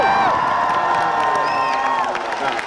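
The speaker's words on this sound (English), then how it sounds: "how much screaming, how much noise, and how much cheering that you're gonna do" Dense convention crowd at Anthrocon, a furry fan event, cheering, whooping and screaming loudly and continuously, with overlapping high-pitched shouts filling the space.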